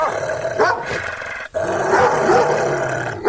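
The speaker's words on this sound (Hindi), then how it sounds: "टॉमी उन पर भौंकने लगता है।" A cartoon dog named Tommy barks and growls in loud, rough bursts, a short outburst followed by a longer snarling stretch, close and dominant.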